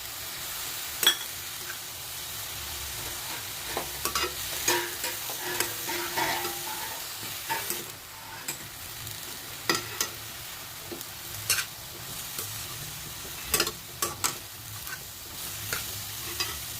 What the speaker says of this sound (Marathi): भाजी परतून घेऊया। उकडलेली चणा डाळ घालून घेऊया।